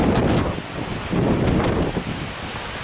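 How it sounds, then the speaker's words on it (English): Strong wind roars and buffets the microphone continuously, a loud broadband rush with gusty surges throughout. "Man, it is windy."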